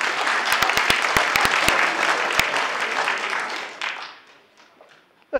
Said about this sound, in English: We should have no applause before it's time.